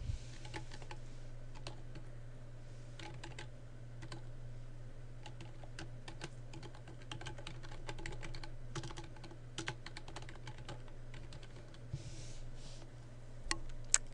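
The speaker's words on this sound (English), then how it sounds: "Type your CC Gmail email address." Typing an email address on a computer keyboard, a steady run of light, quick key clicks close up over a faint background hum.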